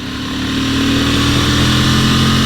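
Honda Transalp motorcycle ridden along twisty mountain roads in Japan, its engine droning steadily and loud throughout, with constant wind rush over the ride.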